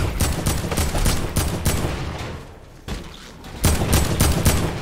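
Gunfire in Fortnite's horde mode: loud, dense bursts of rapid shots overlap in quick succession, dip briefly into a quieter pause midway, then resume at full intensity. No one speaks.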